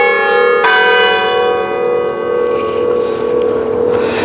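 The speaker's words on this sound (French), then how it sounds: "Ah, des cloches." Church bells ring out at Saint-Jean-Chrysostome church outdoors, a sustained peal with a fresh strike near the start and long resonant overtones fading under steady background noise.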